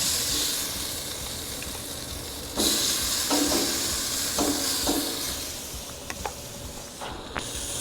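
Onions and burgers on a Blackstone griddle hiss and sizzle steadily, with a louder burst of sizzling partway through and a few scraping clicks near the end, and no voices.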